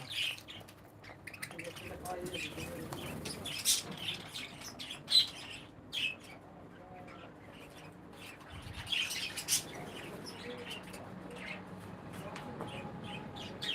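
Pet budgerigars chirp and tweet in a fan-cooled aviary cage, a busy chatter of high calls with occasional squawks and wing flutters, while a person talks quietly in the background.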